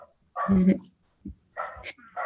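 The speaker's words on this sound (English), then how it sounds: "Someone with dogs." A few short dog barks and yips break through in the background of an online group meeting, separated by brief pauses, with a person talking over and between them.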